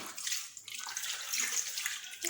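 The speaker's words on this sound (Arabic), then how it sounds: "بالنسبه لهذيك 2 ايطر ديال الماء هي دابا غنخويها باش يذوب لينا" Two litres of water poured from a measuring jug into a pot to dissolve sugar for orange jam, a steady gushing splash that stays constant for a couple of seconds.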